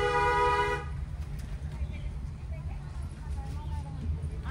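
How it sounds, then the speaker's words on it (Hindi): A single car horn blares briefly and loudly at the start during a driving lesson on the road, then gives way to quiet interior cabin rumble. "अब इनको हॉर्न दो।"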